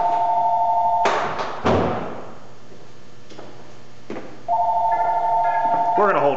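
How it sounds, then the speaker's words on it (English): A telephone rings in a home garage during work on a Jeep Cherokee, two bursts of steady electronic ringing separated by clunks, thumps and handling noise close by. "We're gonna hold for a second to grab that phone."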